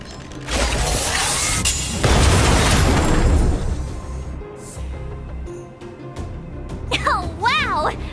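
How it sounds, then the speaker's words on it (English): A stealth bomb detonates in the video game Honkai: Star Rail, a loud booming blast with rumbling debris lasting a couple of seconds, followed by quieter game ambience and a rising electronic effect near the end. "We wiped them all out in a single explosion!"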